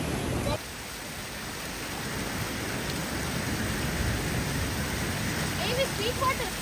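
A waterfall at a villa resort rushes steadily throughout as a constant broadband roar, close and continuous, with faint voices in the background toward the end.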